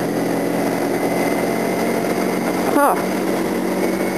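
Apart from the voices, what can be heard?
motorcycle riding on a sandy road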